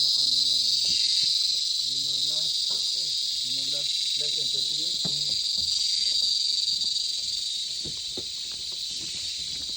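Cicadas in the Sabah jungle keep up a loud, continuous high buzzing drone across the whole stretch, with a person talking quietly underneath for the first few seconds.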